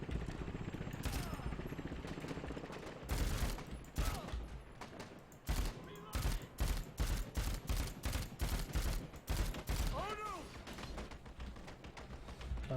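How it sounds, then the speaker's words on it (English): Assault rifle gunfire in Dead Rising 4, with loud repeated shots in ragged bursts and rapid volleys over a dense backdrop of game noise. "Assault rifle, finally."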